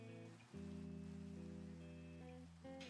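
Rain falling in the Minecraft video game, a soft steady patter heard beneath sustained tonal game music, with no voices.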